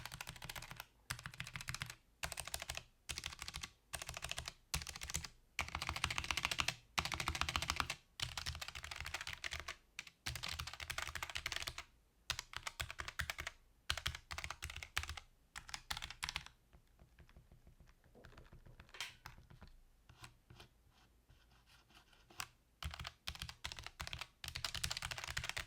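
Steady typing on a Logitech G915 TKL keyboard, quick irregular keystrokes in long runs with brief pauses, close and fairly quiet, no voices.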